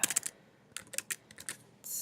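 A computer keyboard typed on in a quick burst of key clicks, then a brief pause and a few more taps, close and fairly soft, with no talking.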